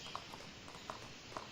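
Horse hooves clip-clop at a walking pace in the Animallica video game, a few soft, evenly spaced hoof strikes, faint and distant over a quiet ambient background.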